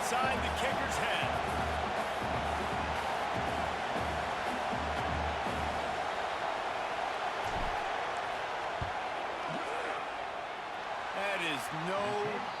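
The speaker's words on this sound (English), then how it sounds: "This crowd trying to do its part to get inside the kicker's head." Steady roar of a college football stadium crowd, Oregon against Texas, as the field goal kicker lines up, a dense wash of voices holding constant throughout with a few louder swells and scattered shouts.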